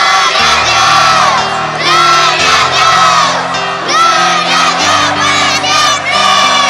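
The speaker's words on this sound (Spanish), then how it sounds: "Cabros chicos, quiero que griten, pero que griten realmente" A large crowd of children screams and shouts together at full volume, a sustained roar of high voices over background music.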